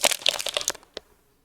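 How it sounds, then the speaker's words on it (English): A closed, empty plastic bottle is squeezed by hand, giving a rapid run of sharp crackles and crinkles, then one final crack before it goes quiet. "This empty bottle only consists of air in the bottle. So can we crush it?"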